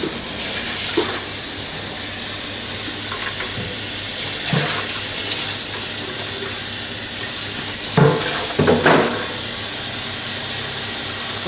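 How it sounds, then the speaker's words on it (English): A coffee machine cleaning container being emptied and rinsed under running water at the end of a café shift, with a steady loud stream of water and a few clunks and splashes as the container is handled. "So we empty and rinse container 2."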